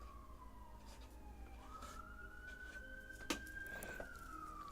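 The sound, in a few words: sirens going by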